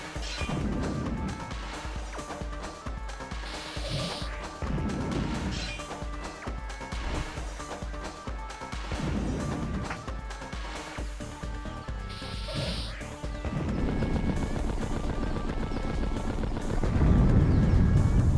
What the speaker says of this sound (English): The sound effects have everything blowing up quite well